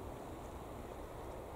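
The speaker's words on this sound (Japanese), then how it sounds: "海の音、" The sea murmurs beside Shotoen garden on Shimo-Kamagari Island in Hiroshima. It is a faint, continuous broadband wash of surf, with no voices.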